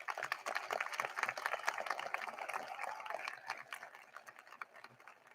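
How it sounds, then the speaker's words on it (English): Applause from an audience at the Scriber Lake High School class of 2023 graduation ceremony, a steady wash of many hands clapping at moderate distance that gradually tapers off toward the end. "Let's give them a round of applause."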